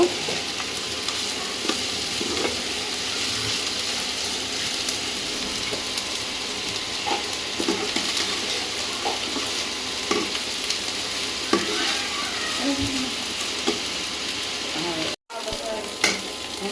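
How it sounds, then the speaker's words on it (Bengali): Crisp tilapia fish strips sizzle steadily in hot oil in a pan, with close scraping and stirring strokes throughout and no voices. "আর একটু ভাজা ভাজা করে নামিয়ে নিব।"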